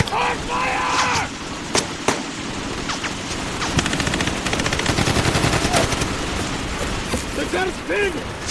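Dense gunfire from a film battle scene, rapid automatic bursts and single shots crackling over shouted voices, with loud sharp reports throughout.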